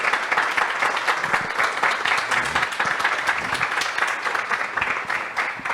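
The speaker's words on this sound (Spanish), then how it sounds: "que le demos un fuertísimo aplauso a nuestros invitados" A conference audience applauding its guests warmly, dense continuous clapping that stays loud and even for several seconds.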